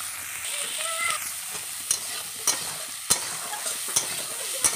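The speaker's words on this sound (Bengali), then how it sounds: "আর এখন দেব সামান্য লবণ আর হলুদ, তারপর ভেজে নামিয়ে বেটে নেব।" Dried fish frying with a pinch of salt and turmeric, a continuous close sizzle broken by periodic sharp utensil taps and stirring scrapes, no voices.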